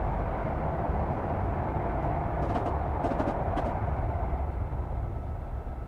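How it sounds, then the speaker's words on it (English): A train in the Train Simulator 2021 video game rolls past on a rail line, giving a steady, moderately quiet low rumble with faint clicking overtones that gradually fades. "So that was a train that you saw at Cannon Cross Station that's just been following us."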